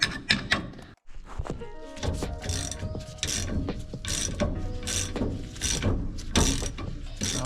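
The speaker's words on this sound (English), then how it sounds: "Take that nut off there." A ratchet works a nut loose on a 1941 Chevy, with quick, close clicking strokes and metallic clunks repeating for several seconds and no talk.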